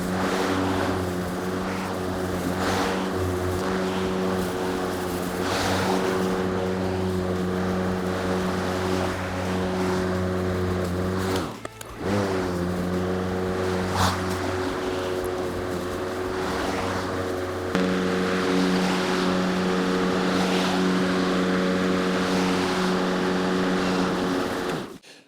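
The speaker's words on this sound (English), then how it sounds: "So we're just going to gently tickle it with the mower." A cordless Ego lawn mower runs with a steady motor hum and blade whir while cutting a shady lawn, close and continuous for about 25 seconds, with one short dip midway and no talk.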